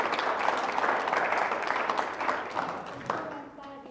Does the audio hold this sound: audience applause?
yes